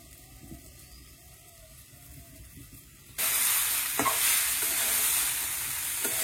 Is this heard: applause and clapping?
no